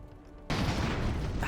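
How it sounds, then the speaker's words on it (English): A big airship cannon fires in the game Airships: Conquer the Skies, a sudden loud blast at the half-second mark that turns into a sustained roar of impact and fire filling the rest of the moment. "if I move further forward, that big cannon's going to fire in it"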